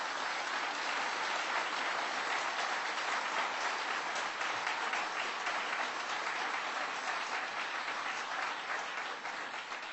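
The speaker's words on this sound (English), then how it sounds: "That's worth applauding." Sustained, loud applause from a large audience, steady clapping filling the whole stretch with no voices rising above it.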